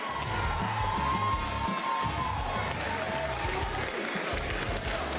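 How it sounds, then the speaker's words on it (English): Arena crowd applauds and cheers after a women's 125-pound fight at a Gladius event, a loud continuous roar of clapping and voices with an announcer's tone ringing underneath. "big round of applause for another excellent fight."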